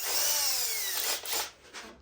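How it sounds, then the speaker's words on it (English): A power drill bores a hole into wood for a threaded insert: a loud, high whine that slows and drops in pitch as the bit cuts in, then short bursts as it winds down and stops. "So now we just get the drill bit that fits for this piece right here for the insert, and we do the first one"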